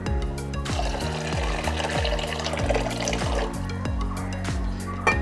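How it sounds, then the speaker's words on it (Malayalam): Water is poured steadily into a cooking pan holding soaked chickpeas, a close continuous liquid stream whose pitch rises repeatedly as the vessel fills, with no one talking. "അത് നമുക്ക് കുറച്ച് വെള്ളം ഒഴിച്ചൊന്ന് വേവിച്ചെടുക്കാം"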